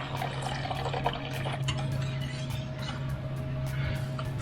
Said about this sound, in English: this is where you pour in the gula melaka, the santan, as well as the pandan essence